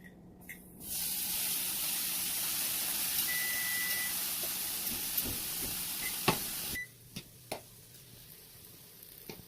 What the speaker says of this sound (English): I add the marinated beef into the non-stick pan over medium heat